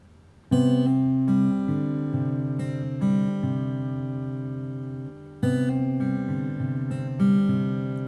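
Acoustic guitar fingerpicking: a repeating pattern of single plucked notes ringing over one another, played twice with clear, steady attacks.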